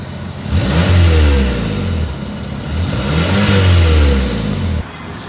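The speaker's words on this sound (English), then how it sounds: "we just start the engine, and already it sounds a bit better" A Ford Ka engine runs steadily at close range after a failed MOT, its low rumble swelling and easing in slow revs before cutting off near the end.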